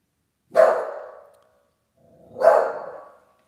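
A dog barks twice, each a single loud, close bark with a short ringing tail, separated by about two seconds of quiet, with no talking.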